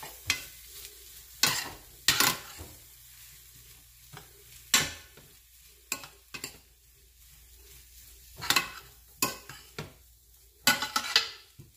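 Shrimp fried rice with sweet corn stirred in a pan on a turned-down stove, giving intermittent scraping strokes and spatula clatters over a faint, steady sizzle, with no one speaking.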